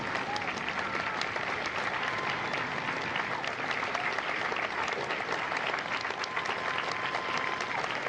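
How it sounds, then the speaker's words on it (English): A crowd at a Marine Corps recruit graduation in San Diego applauds veterans who have served as Marines, with loud, dense, continuous clapping that holds steady throughout. "A round of applause for their dedicated service to Corps and country"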